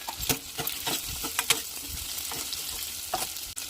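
Carrots and green peas frying in a pan after green chillies, a close crackling sizzle with scattered sharp pops and spatters over a steady hiss, ending with a brief clack.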